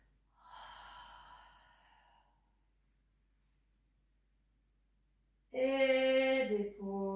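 Breathy exhalations from a woman during a Pilates chest lift, the first a soft airy breath, then after a long silence a louder, strained voiced exhale with a tonal, almost sighing quality.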